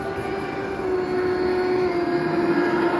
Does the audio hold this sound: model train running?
yes